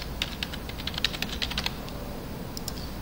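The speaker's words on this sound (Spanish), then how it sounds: "vamos a digitar entonces el usuario, en este caso, y la contraseña." Quick, light keystrokes on a computer keyboard as a username and password are entered, forming a close, irregular burst of clicks that pauses briefly near the end, with no voices.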